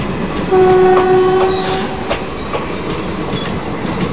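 A WAP4 electric locomotive hauling the Ajmer Sealdah Express passes close by, loud and steady, with a sustained horn note early on, rolling wheel rumble and faint clicks of the carriages.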